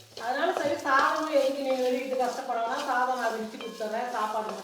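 Vegetable poriyal with onion is stir-fried in a pan, a soft sizzle and scraping stir heard beneath continuous close talking.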